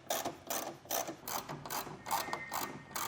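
Ratchet wrench loosening a bolt on a pickup truck tailgate, several short bursts of rapid metallic clicking in a steady back-and-forth rhythm, close and fairly loud with no talk.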